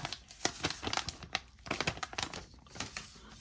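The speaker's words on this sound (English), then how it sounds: "go ahead and peel the plastic off" Protective plastic film is peeled and crinkled off a new Pixel 4 XL phone, close and fairly quiet, with rapid irregular crackles and tearing rasps in bursts.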